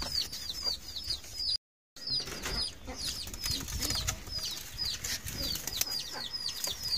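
Hens clucking repeatedly at close range with a brief dropout, mixed with wing flaps and rustling in a busy coop.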